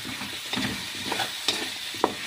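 Chicken sautéing in a pan for tinolang manok, seasoned with ground pepper, with a steady close sizzle and a few stirring scrapes, without voices.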